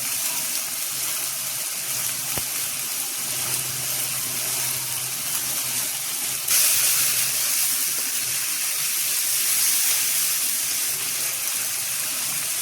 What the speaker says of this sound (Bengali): আদা বাটাটা একটু ভেজে নিলাম যাতে আদার গন্ধটা চলে যায়।